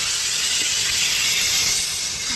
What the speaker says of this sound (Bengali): এখন মশলাটা কষা হচ্ছে এখানে